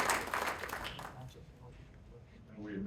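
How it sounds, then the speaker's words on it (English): An audience at a Merriam, Kansas city council meeting applauds for organ donors. The brief, soft round of clapping dies away after about a second and leaves a quiet room with faint voices. "for all you donors out there,"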